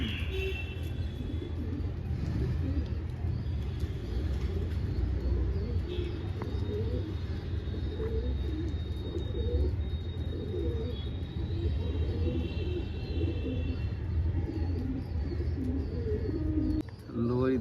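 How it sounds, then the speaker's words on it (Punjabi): Pigeons coo softly in a continuous, low, rolling murmur, with occasional chirps and distant traffic noise behind. "ਕਬੂਤਰ ਆ ਗਿਆ"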